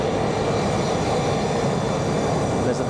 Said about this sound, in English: There's a plane taking off there.